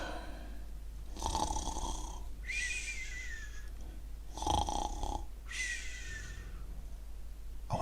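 A person does a snore imitation for a children's story about a snoring giant, with four drawn-out rasping breaths, alternating between deep snorts in and wheezy exhales, loud and close over faint background hum.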